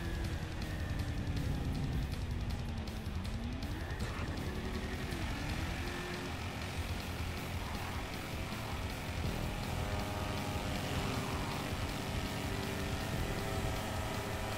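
Motorcycles race in GTA V Online stunt racing, a continuous dense engine roar with shifting pitch sweeps as bikes accelerate and pass, loud and steady throughout.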